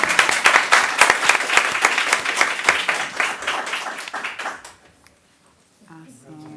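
An audience at a school board of education meeting breaks into loud, sustained applause that tapers off and stops, followed by a short pause and then a voice starting to speak.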